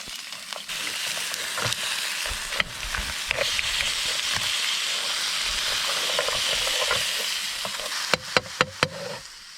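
Marron frying in a pan over a bush cooking fire beside a river, a steady loud sizzle throughout with occasional sharp clicks and taps near the end, no voices.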